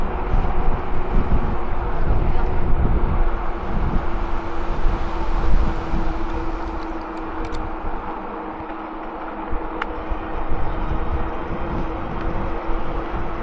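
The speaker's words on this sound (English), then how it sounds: "It is windy." Steady wind roars and buffets the microphone outdoors in open fields, a continuous low rumble with gusty swells and no talking.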